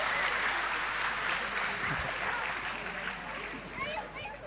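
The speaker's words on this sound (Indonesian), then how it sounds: "Tepuk tangan untuk Gus Kausar nggak apa-apa." Audience applause for Gus Kausar at an Islamic study gathering with Gus Baha, a dense, steady wash of many clapping hands that fills the whole stretch and fades slightly toward the end.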